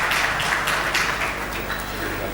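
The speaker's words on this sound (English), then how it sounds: "Can we please have another round of applause before we leave the stage?" A conference audience at a hotel industry summit panel in Africa applauds in a steady, continuous wash of clapping that fills the room, heard at moderate distance throughout.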